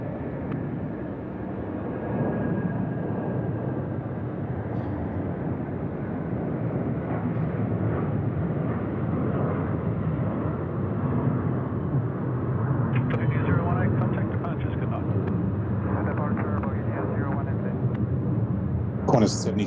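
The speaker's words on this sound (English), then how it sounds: "Qantas 73 making its way down Alpha at the moment, head off to San Francisco tonight." A Qantas jet airliner taxis at Sydney Airport at night, a steady broad engine roar holding loud and constant throughout.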